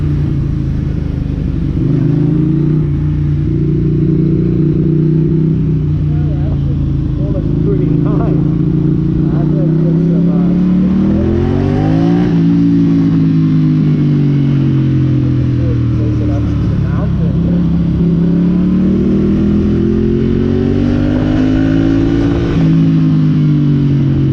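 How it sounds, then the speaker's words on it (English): A Ducati Hypermotard motorcycle ridden along a road in Bali, its engine loud and close throughout, with the pitch rising and falling as the rider rolls the throttle on and off. "Especially for Renars, this was his first time riding my Hypermotard"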